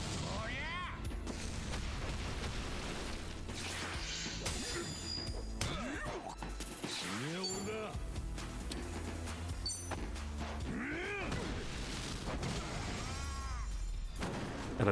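Repeated explosions and booming impacts in Like a Dragon: Infinite Wealth over busy background music and effects, continuing throughout at a steady level.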